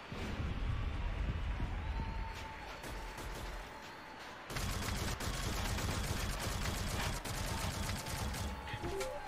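Rapid plasma blaster fire in the shooter game Shadowgun Legends, a dense continuous stream of shots with a brief thinner stretch in the middle before the volley resumes at full intensity.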